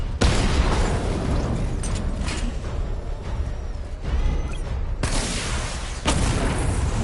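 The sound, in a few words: missile barrage explosions in a video game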